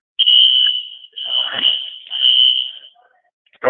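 An alarm goes off during a business presentation, three shrill sustained high beeps with short gaps between them, loud and nearby, with faint voices mixed in.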